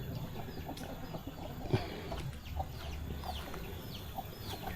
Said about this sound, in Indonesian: Tuh, banyak ayam berkeliaran di sini ya.